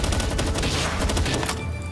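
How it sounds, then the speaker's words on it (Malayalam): Rapid assault-rifle bursts in the video game Palworld during a boss fight against Bellanoir, a dense, loud string of overlapping shots and bangs with no pauses. "ഞാൻ വെടിവെക്കുന്നുണ്ട്, ഒപ്പം സൈഡിൽ നിന്റെ ഒക്കെ ഒരു കോൺട്രിബ്യൂഷൻ ആയിക്കോട്ടെ"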